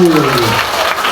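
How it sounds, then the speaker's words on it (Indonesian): Schoolchildren clap their hands at a primary school in East Sumba, a short burst of dense applause that follows a brief spoken voice at the start. "Tepuk tangan dulu."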